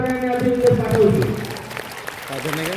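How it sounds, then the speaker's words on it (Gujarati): Applause from an audience at a school family day celebration for lucky draw student winners, a steady burst of clapping under a voice on a loudspeaker that fades near the end. "જોરદાર તાળીઓ સાથે આપણે એને અભિનંદન પાઠવશું"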